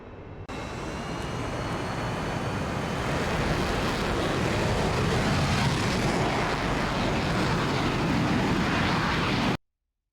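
A MiG-31 jet in the DCS flight simulator accelerates with a steady, loud engine roar that swells in after a brief start and holds until cutting off abruptly near the end.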